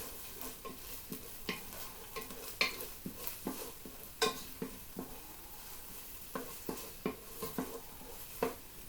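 Chicken pieces frying and spitting in a pan whose thermostat is set nearly to zero, a faint sizzle broken by sharp pops and the clink of a utensil stirring, no one speaking.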